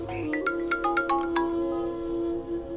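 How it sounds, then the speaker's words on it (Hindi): A mobile phone rings with a short, bright, melodic ringtone, a quick run of chiming notes followed by a sustained tone, clear and fairly close with no talk over it. "अरे फोन उठा के बात करना।"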